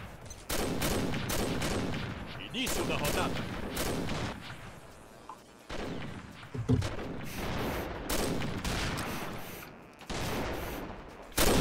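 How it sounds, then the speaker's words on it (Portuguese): Gunfire from the video game Combat Arms crackles in repeated loud bursts and volleys throughout, mixed with game effects, while someone talks over it. "O cara me acertou o tiro e não matou."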